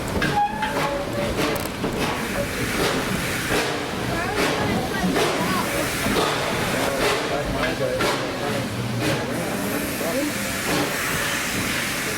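A Tweetsie Railroad steam train rolls along on its opening-day ride, heard from the first car with steady hissing, rumbling and clatter throughout, while people talk over it.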